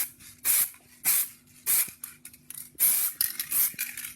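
Short bursts of aerosol spray paint dabbed onto a magazine from about two feet away, hissing in quick repeated dabs with brief pauses between them, close and fairly loud.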